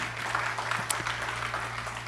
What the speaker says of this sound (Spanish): Pero un aplauso al Señor por eso.